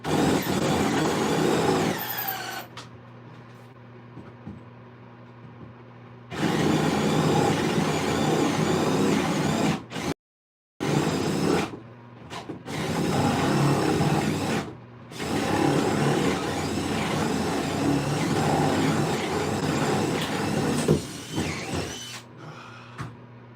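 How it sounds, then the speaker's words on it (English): A spade bit in a power drill bores waste wood out of a handmade wooden napkin holder, running in long loud whirring stretches broken by brief stops and sharp silences, close and without talking. "Works a lot better hogging out the waste with a spade bit"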